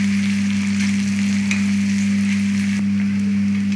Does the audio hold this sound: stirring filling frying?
yes